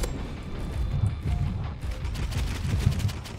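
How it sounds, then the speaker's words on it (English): A paintball gun in Roblox Rivals fires rapid, steady shots, a continuous rattling barrage of close, punchy pops mixed with game effects throughout. "Why is the paintball gun so overpowered now?"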